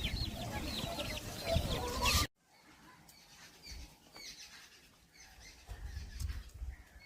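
Chickens cluck nearby amid a brief rustle or flutter, then quieter bird chatter continues over low outdoor noise.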